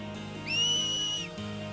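A single sharp finger whistle, as fans cheer blitzball players in the Final Fantasy X video game, rings out loud and close with a rising start and a held tone lasting under a second over a quiet game background.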